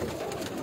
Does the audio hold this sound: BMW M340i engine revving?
no